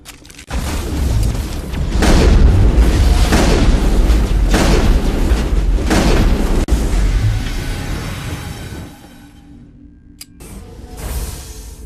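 Mass Effect combat in a lab, where several heavy booming explosions land in quick succession amid rattling weapons fire and roaring debris, loud and close, before the din drops away to quieter rumbling and a final thud.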